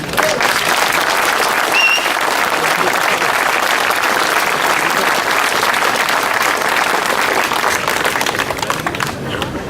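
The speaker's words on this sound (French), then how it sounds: "je pense que les filles, on peut les applaudir" Sustained applause from a large crowd at a motorcyclists' charity cheque presentation in Dieuze, dense and steady clapping filling the whole stretch with some voices mixed in.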